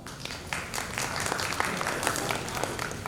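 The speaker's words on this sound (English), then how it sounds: "A huge round of applause for sir again." Seminar audience at a research session gives a round of applause for a resource person, a dense, even patter of clapping from a mid-sized room, moderately loud and unbroken for a few seconds with no talking.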